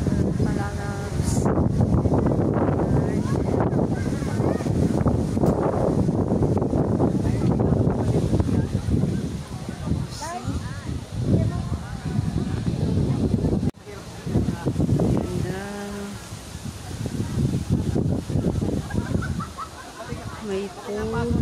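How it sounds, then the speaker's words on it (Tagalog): Strong wind blasts across an open outdoor nature spot in Negros Occidental, a loud continuous roaring rush with microphone buffeting, while people talk over it throughout. "sobrang lakas ng hangin na sarap"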